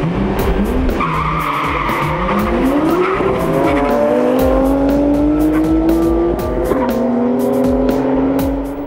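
Japanese cars such as Mazdas, Subarus and Toyotas race at the 2004 Rotorstock event, with loud screeching tyre skids and engines rising in pitch as they accelerate, close by and continuous.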